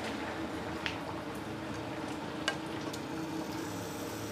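Adobong pinakbet vegetables with kangkong being stirred in a hot pan, a steady sizzle of frying with soft scraping and a couple of light clinks, close and continuous with no talking.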